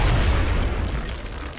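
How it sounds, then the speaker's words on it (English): A grenade blast in the XCOM: Enemy Within strategy game goes off as a single loud, deep boom whose rumble fills the moment and slowly fades out, with no talking. "This won't kill him, but it will blow up the cover and Grenade out."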